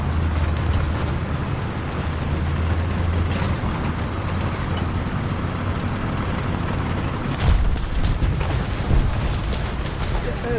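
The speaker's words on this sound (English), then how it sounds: "there's the gunfire" War Thunder tank battle with a dense, continuous roar of engine rumble and gunfire, loud throughout, with sharper bursts of firing and impacts near the end.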